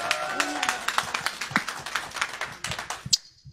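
An audience claps at a Bangla community gathering in New York, with scattered, uneven claps running steadily for a few seconds before tapering off, voices mixed in underneath.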